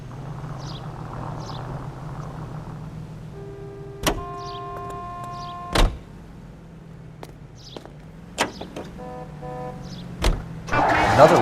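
Car interior in the L.A. Noire video game: a low idling engine hum with tonal whines, sharp door and mechanical clunks scattered throughout, and a burst of rushing noise at the end.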